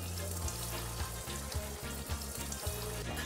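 Peremeç, a Tatar fried pastry filled with minced meat, frying in hot oil with a loud continuous sizzle and bubbling, close up, with faint rhythmic low thumps running beneath.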